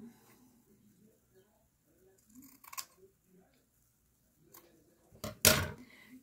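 Scissors cutting a small piece of lace: quiet, sparse snips with a louder crisp cut near the end, in a quiet room.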